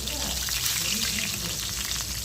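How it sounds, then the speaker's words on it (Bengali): Cut pointed gourd (potol) pieces frying in a pan, producing a loud, dense, continuous sizzle close up with no pauses. "পটল কেটে ভালো করে ভেজে নিচ্ছি"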